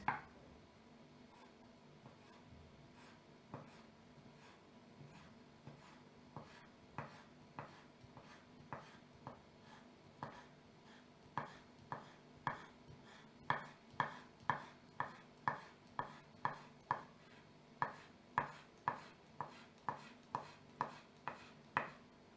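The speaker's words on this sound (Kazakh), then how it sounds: "Алдымен краб таяқшасын былай тураймыз." A knife chops crab sticks on a board, sparse at first, then a quick regular run of crisp taps that grows louder and closer.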